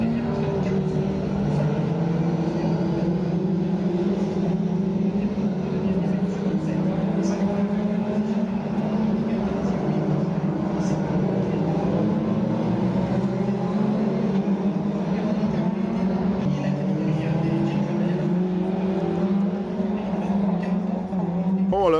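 Mitjet race cars circle Circuit Paul Ricard, their engines merging into a continuous droning rumble that rises and falls gently over twenty seconds at a moderate distance, with faint crowd and ambient noise around it.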